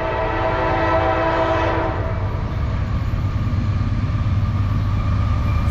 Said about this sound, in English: Come on, give me a horn show.